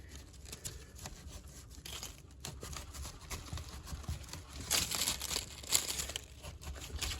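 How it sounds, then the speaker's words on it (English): A sharp knife cuts through the fibrous join of a banana plant, making crunchy tearing and crinkling noises close by, growing louder toward the end as the blade pushes deeper. "a knife, nice and sharp, we're going to slice straight through between the join"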